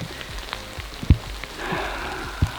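Rain patters on a homemade ground blind during a spring black bear hunt in Saskatchewan, a steady close drumming with scattered louder drops and thumps.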